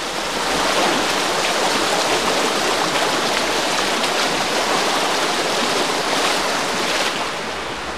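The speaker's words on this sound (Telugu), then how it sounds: "ఇప్పుడు అయితే చూస్తున్నారు కదా వాటర్ ఫ్లోయింగ్ ఏ విధంగా ఉందో ఇక్కడ" Godavari floodwater surges past steadily near Appanapalli village, a loud, continuous broadband rush of turbulent flowing water with no speech over it.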